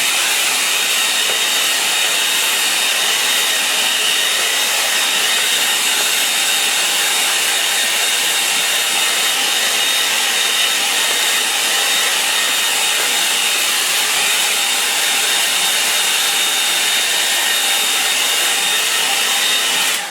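Hair dryer drying a watercolour pen and wash painting of autumn oaks, a steady loud whooshing hiss that runs unbroken for the whole stretch with no talking.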